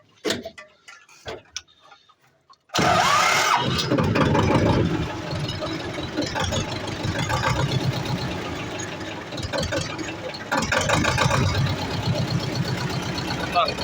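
After a few quiet clicks, a T-25 tractor engine cranks and catches, then idles loudly and roughly with a steady mechanical rhythm, close by, a voice talking over it.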